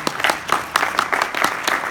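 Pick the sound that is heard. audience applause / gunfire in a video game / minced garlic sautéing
audience applause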